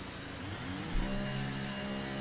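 An F1 car engine in the F1 23 racing game sits on the grid before the start and rises into a steady high-pitched rev. The whine is held at a constant pitch throughout.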